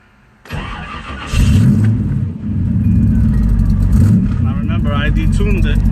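A Nissan D21 with a small-block Chevy engine and a Percy's adjust-a-jet carburetor, detuned, cranks and catches, then runs loud and rough at a steady idle close by.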